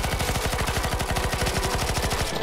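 Rapid automatic gunfire in the video game CS:GO on a zombie escape map, a dense, steady stream of shots rattling continuously and loudly without a break.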